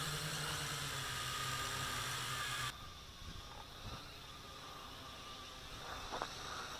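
A small MJX X101 quadcopter drone hovering, its steady motor whine heard faint and distant, dropping suddenly to a softer hum partway through and carrying on with light hiss and scattered small knocks.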